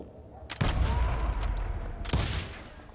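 Gunfire in the Western shooter game Call of Juarez Gunslinger: two sharp shots a second and a half apart, each followed by a booming rolling echo, loud and close.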